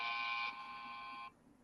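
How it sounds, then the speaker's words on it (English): A short electronic buzzer tone from a tracheostomy patient communication app, a steady bright beep that holds for about a second and then cuts off, clear and close with no talking. "here there is a buzzer present. So the patient just has to click on this,"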